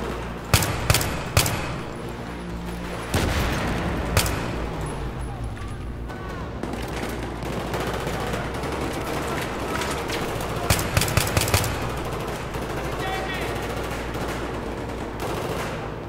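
Gunfire in Battlefield 3 on the Operation Guillotine mission: sharp separate shots and short bursts at the start and again near the eleven-second mark, over a steady rumbling game background, with someone talking through it.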